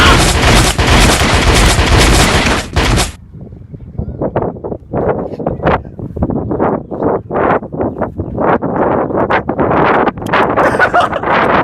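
A volley of gunfire erupts right after a firing command in a staged American Revolution battle scene: about three seconds of loud, dense blasts, then scattered sharper cracks and pops continuing farther off.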